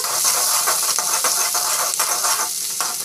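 Onions sautéing in hot oil for a home-cooked protein dish give a steady, close sizzle with light crackling and occasional stirring scrapes, unbroken throughout and with no voices.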